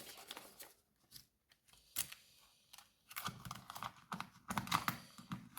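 Computer keyboard being typed on in irregular bursts of light, close clicking keystrokes with short pauses between them and no talking.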